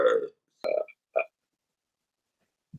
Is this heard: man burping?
yes